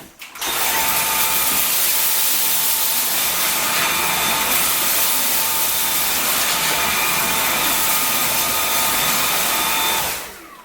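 A Dyson V7 Fluffy cordless vacuum cleaner runs steadily with a loud, continuous broadband whine and faint tonal hum, starting up and cutting off at the ends, with no voices.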